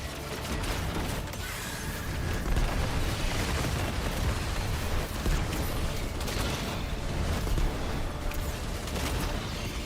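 Grenade blast in Destiny 2 combat, a continuous loud wash of explosive rumble and crackling debris layered with mechanical weapon clatter, sustained for several seconds.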